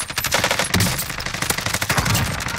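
Rapid automatic gunfire from the video game Warzone, loud, dense bursts of shots crackling continuously through the whole stretch with no talk over it.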